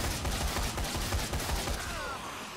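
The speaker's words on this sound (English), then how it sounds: "Where's my scatter gun? Here we go. Scatter gun! Do your thing!" Scatter gun firing in Dead Rising 3, a rapid cluster of loud blasts in quick succession over a busy game backdrop.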